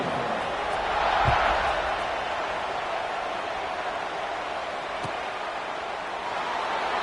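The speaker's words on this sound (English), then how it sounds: "this crowd is buzzing after that last score" A football stadium crowd buzzes after a 77-yard touchdown drive as the kickoff approaches, a dense, steady roar of many distant voices that swells briefly early on, with a couple of dull thumps cutting through.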